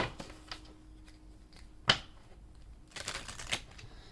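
Angel cards being shuffled and drawn for a reading, a few soft papery riffles and sharper slaps spaced irregularly, close and fairly quiet with no talking.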